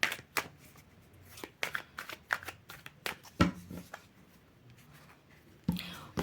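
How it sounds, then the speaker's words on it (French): Tarot fortune-telling cards are handled and shuffled close by, with a string of sharp flicks and riffles spread unevenly across the span and a final burst of shuffling. "je vais prendre les cartes de la main qui sont là"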